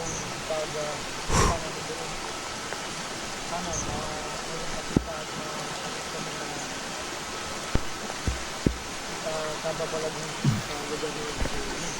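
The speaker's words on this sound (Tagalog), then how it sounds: "Talagang umuulan to guys." Steady rain hisses throughout, with a few sharp knocks and thumps and faint distant voices.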